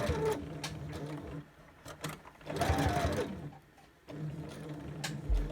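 Sewing machine stitching a back dart along a chalk line in fabric, bursts of rapid mechanical whirring that start and stop, close and clear with short pauses between runs.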